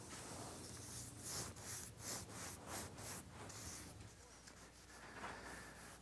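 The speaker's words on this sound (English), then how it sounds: "I'm just taking a clean rag and rubbing the stain so that I take off any of the excess" A clean rag rubs excess wild cherry stain off a mahogany Chippendale mirror frame, giving soft, quiet swishing strokes in a loose rhythm with a faint hiss beneath.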